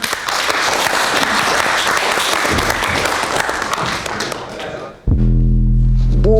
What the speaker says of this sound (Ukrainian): Так що оплески починаємо